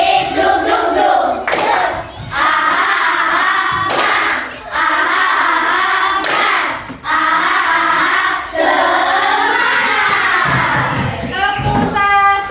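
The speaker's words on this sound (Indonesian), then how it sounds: "Tepuk semangat." A fifth-grade elementary class claps in rhythm during a group chant, with a few sharp claps spaced a couple of seconds apart under loud children's voices chanting together.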